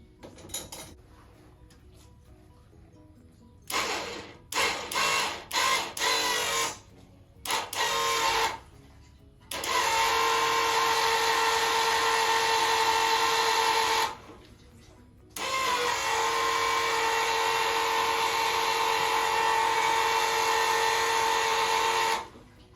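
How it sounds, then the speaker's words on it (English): Fuel pump whirring as fuel moves through a new fuel system on a K24-engined race car in a garage, first in short irregular bursts, then in two long steady runs separated by a brief pause. "Can definitely hear the fuel moving."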